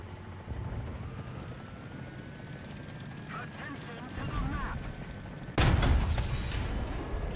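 Gunfire from a tank video game: a sharp, loud blast near the end rings out over steady engine rumble, following some quieter clatter, while a person talks.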